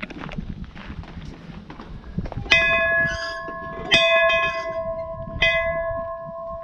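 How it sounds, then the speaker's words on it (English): A schoolhouse hand bell at Pioneer Village at Shingle Creek, Kissimmee, Florida, rings out three times with clear, sustained metallic tones, each strike spaced about a second and a half apart, over faint background noise. "Are we allowed to ring the bell?"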